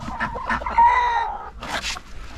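Chickens, geese and ducks call close by on a farm: a loud crowing cry with clucks around it, then a short burst of squawking.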